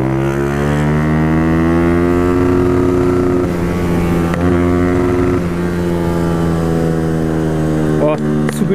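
A 2008 Honda CG 125 Fan motorcycle engine drones steadily and loud while riding, a rich buzzing hum with strong harmonics, its pitch rising and falling slightly with the throttle; rattles and clicks break in near the end.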